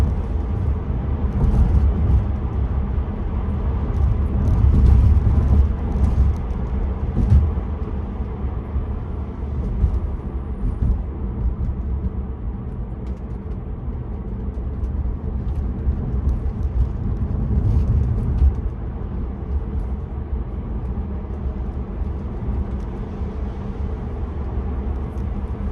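Steady low road rumble and tire noise inside a Tesla Model 3 running Full Self-Driving beta through a roundabout, a continuous droning hum that swells slightly at times, with no clear voices.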